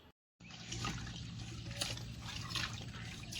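Water runs and splashes steadily while large rohu fish head and pieces are washed, a continuous close trickling and sloshing with occasional louder splashes, no talking.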